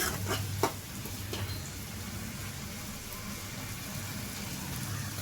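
Tomato puree for a potato curry fries in a pan with a soft, steady sizzle under a low hum, with a couple of brief stirring clinks near the start and no talking.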